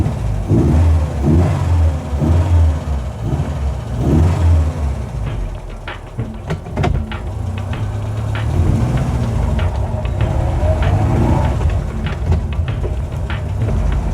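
A 1970 Fiat 1100D car engine idles with a throbbing mid-pitched rhythm, then rises and drones steadily as the car drives off nearby.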